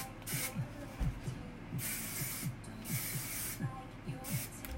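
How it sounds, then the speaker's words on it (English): Light-hold hairspray misted over freshly curled hair in short repeated hissing bursts, close and soft, with a faint voice murmuring underneath. "I'm gonna go through with one more little pass of my light hold hairspray."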